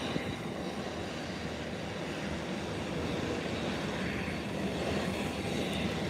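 An airplane taxis at an airport as a steady, distant, broadband engine rumble and whoosh, holding at a constant level without any clear rise or fall and with no voices.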